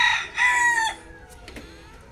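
A rooster crows loudly and close by in a single strong call lasting nearly a second, followed by quieter clucks and faint chicken sounds.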